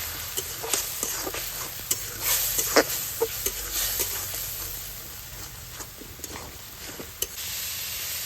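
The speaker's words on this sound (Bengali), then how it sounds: "ধনে গুঁড়ো জিরার গুঁড়ো লাল লঙ্কার গুঁড়ো মশলাগুলিকে ভালো করে কষিয়ে নেবো" Ground coriander, cumin and red chilli powder frying in a pan while being stirred, a steady sizzle broken by frequent sharp scraping clicks of the spoon, close and alone.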